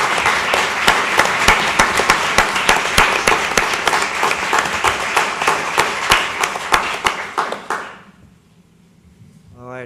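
Loud, close applause at a candidate forum, a small group clapping with sharp individual claps standing out, ending abruptly near eight seconds before a voice starts speaking.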